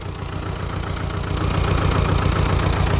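A two-cylinder engine on an Agria 4900 garden tractor runs with a steady low, knocking pulse that grows slightly louder partway through, close up and with no voices.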